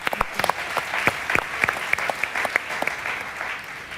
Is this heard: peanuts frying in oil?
no